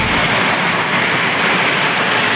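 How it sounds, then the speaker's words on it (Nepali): Heavy downpour with hailstones drums steadily on a farm field of newly sprouted maize and soybeans, a close, loud, even wash of noise with a few sharper impacts. "मुसलधारा पानी, सँगसँगै असिना।"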